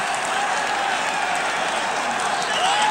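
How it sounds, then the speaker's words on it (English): A stadium crowd at the 1966 All-Ireland hurling final between Cork and Kilkenny applauds and cheers for the Cork trainer Jim Barry, a dense, steady roar of clapping and voices throughout. "A special cheer by the team for Jim Barry."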